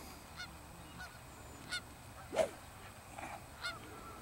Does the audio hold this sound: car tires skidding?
no